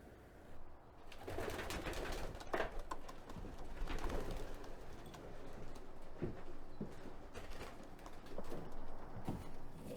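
Stock pigeons of mixed strains cooing in a loft being paired for breeding: soft, repeated throaty coos from several birds at moderate distance, with faint rustling and shuffling around them.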